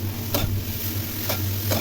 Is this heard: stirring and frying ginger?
yes